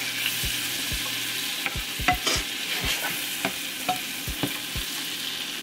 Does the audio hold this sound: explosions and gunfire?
no